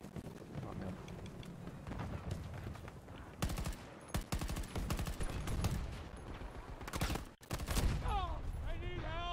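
Gunfire in Battlefield 2042 on Xbox One S, with dense bursts of automatic fire and sharp shots packed into a busy, loud battle mix. A voice speaks intermittently over the shooting.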